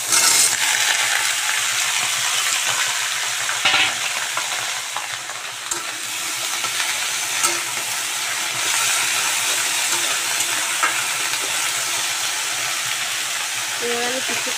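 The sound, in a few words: vegetables being added and frying in a pan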